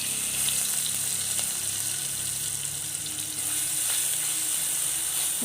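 Crushed garlic, ginger and green chilli frying in hot oil give a steady, even sizzle that runs unbroken throughout, with faint occasional clinks.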